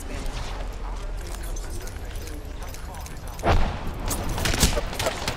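Gunfire in the battle royale shooter Apex Legends, rapid volleys of shots with a couple of sharper louder bursts near the end, heard under a steady game soundscape without talk.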